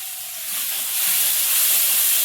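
Garlic paste and spices tempering in hot oil before fish and vegetables go in, a steady bright sizzling hiss that swells slightly and holds on its own, close and fairly loud.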